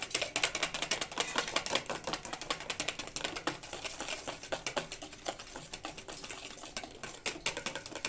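Rapid, steady clicking and scraping of a whisk beating pancake batter in a bowl, quiet and close, with no voices.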